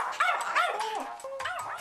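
A small pet dog barks and yips in a quick series of sharp, whining calls, close and loud, with no talk over it, in a home where it is jealous of a cat.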